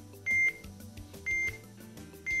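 An ATEN ACT6000 master unit sends test beeps during a balance line test: three short high electronic tones repeat at a regular interval over a low background hum, with no voices.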